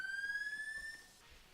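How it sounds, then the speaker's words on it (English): An alarm sounds in a Roblox video game as a single steady electronic tone that rises slightly in pitch, loud and close, then cuts off after about a second, leaving quiet background. "So yeah, sounds an alarm for down here."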